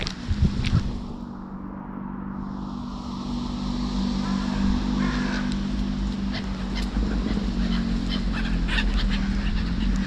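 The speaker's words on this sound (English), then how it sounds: "There's some more ducks flying in." Ducks fly in over a field on a cold, rainy day, giving scattered faint calls above a steady low background hum.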